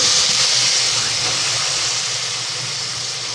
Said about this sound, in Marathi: त्याच्यामध्ये हा शेवगा आहे तो मी घालून घेते